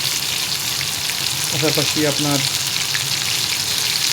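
Pomfret fish and onion fry together in a pan with a constant crackling sizzle and some stirring, while a person talks briefly over it midway.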